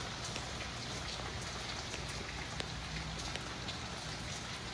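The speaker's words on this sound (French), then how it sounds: "Il pleut." Steady rain falls in Miami as a soft, even hiss of drops, faint and continuous throughout, with no voices.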